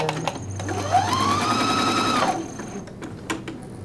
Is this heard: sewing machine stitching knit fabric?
yes